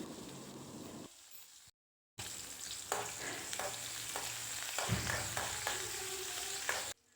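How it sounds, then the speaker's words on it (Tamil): Small shallots fry in hot oil with cinnamon and cloves as a chicken soup is cooked. A steady close sizzle with stirring scrapes follows a brief silent gap, with no talk. "இது கூட வந்து சின்ன வெங்காயம் நான் சேர்த்துக்கிட்டேன் ரெண்டு நிமிஷத்துக்கு நல்லா வந்து வதங்கட்டும்"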